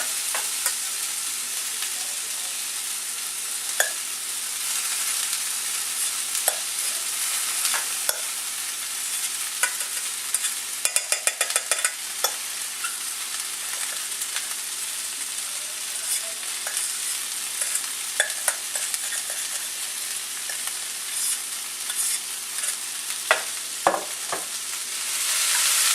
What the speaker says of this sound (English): And just stir this around till you feel like your rice is pretty warm.